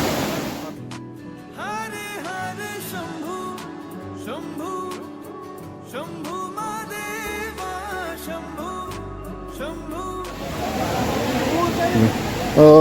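Water pours down from above at a forest temple shrine on a jungle trek to Bhimashankar, a steady broadband rush that swells louder near the end, with some musical tones in the background.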